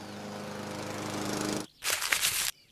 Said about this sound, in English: Push the lawnmower up and down the lawn in parallel strips.